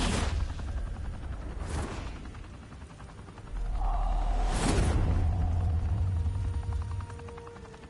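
Enemy gunfire in Batman: The Telltale Series lands as loud, sharp blasts over a rumbling, whooshing game soundscape, with a heavy low boom swelling partway through and carrying to the end.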